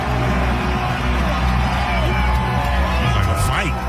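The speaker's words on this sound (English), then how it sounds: "that's the Lightning winning the championship" A large arena crowd roaring after the Tampa Bay Lightning win the championship, a dense continuous wall of cheering, whoops and babble, loud and sustained throughout.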